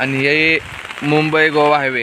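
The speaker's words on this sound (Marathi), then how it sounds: "पाऊस खूप पाऊस पडतोय" Steady monsoon rain hisses in the background in Poladpur, Konkan, while someone talks over it, the patter showing most clearly in a brief pause in his speech.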